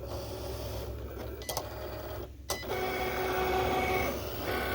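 A Cricut cutting machine slices cardstock with a steady low mechanical whir and motor hum, broken by a few short clicks and carriage movements, close by and fairly quiet, no talk.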